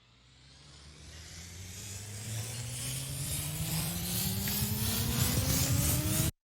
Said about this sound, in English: Which resulted in a really cool modern EDM riser that kind of cuts into your ears